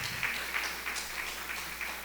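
Church congregation applauding steadily, a soft, fairly distant patter of many clapping hands with no voices over it.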